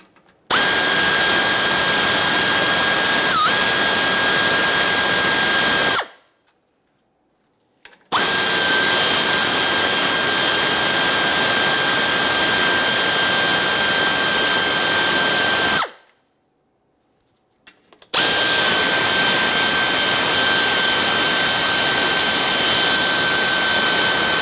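Power tool spinning out 7mm mounting bolts on a GMC Acadia bumper area, loud steady high-pitched whine in three long bursts separated by brief silences.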